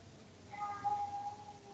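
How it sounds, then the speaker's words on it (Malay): Cats fight outdoors, heard faintly from a distance as a drawn-out tonal yowl that rises for about a second under a steady background hiss, with no talk over it. "you dengar suara kucing saya gaduh"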